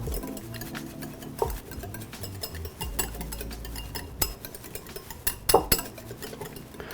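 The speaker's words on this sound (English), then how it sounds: "So I'm just gonna whisk that together." Togarashi peppers being whisked into a sauce in a bowl, with a steady scraping, clinking rhythm of the whisk against the dish and a few sharper knocks near the end, close up and alone.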